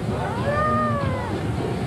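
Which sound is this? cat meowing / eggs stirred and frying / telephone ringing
cat meowing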